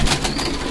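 A homing pigeon gives a short, close, soft coo, a single low murmuring call.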